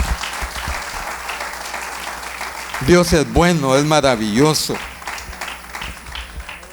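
Church congregation applauding in a sustained wash of clapping, with someone speaking over it in the middle before the clapping fades out.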